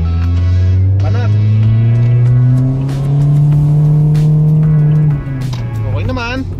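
A Toyota Vios 1.3 XLE sedan on a highway climbs through a sustained engine drone as it accelerates to overtake, with the pitch rising steadily before easing off. A person talks over the engine near the end.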